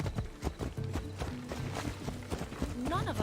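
Horse hooves clip-clop at a quick trot across ground in Assassin's Creed Odyssey, a rapid rhythmic patter of near hoofbeats with the horse snorting toward the end.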